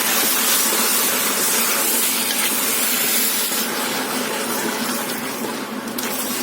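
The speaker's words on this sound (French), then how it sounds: "Et on va commencer à laisser un peu mijoter les tomates pour qu'elles libèrent leur eau." Tomato quarters, peeled, simmer steadily in a saucepan for a tomato-basil sauce, giving a loud, continuous broadband hiss and bubbling that holds evenly throughout with no talking.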